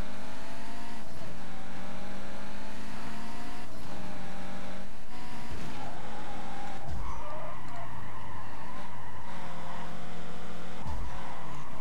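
A racing car corners through turns in Need for Speed Carbon, its engine droning loud and constant while the pitch shifts, with tire squeals and skids breaking in repeatedly, no talking.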